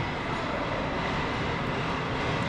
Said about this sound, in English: There's a plane flying around.